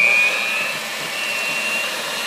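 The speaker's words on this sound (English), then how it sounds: "this is as slow as this hand mixer goes" An electric hand mixer whirs at its lowest speed through cake batter for jack-o-lantern cake layers, a steady close motor drone with a thin high whine and a slightly louder start.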